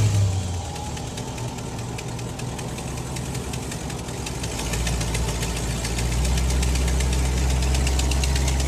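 An old van's engine idles with a steady low rumble and a faint knocking vibration, close and continuous, and it grows slightly louder and fuller partway through.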